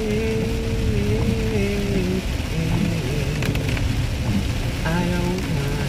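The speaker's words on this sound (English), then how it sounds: "I can show you when it starts to rain." Steady heavy rain falling throughout, a dense continuous hiss with distant rumbling, while a singing voice runs over it.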